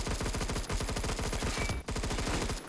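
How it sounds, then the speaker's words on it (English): A machine pistol in the video game Phantom Forces fires a continuous rapid stream of shots with a brief break, loud and punchy throughout. "It doesn't shoot that fast for a machine pistol."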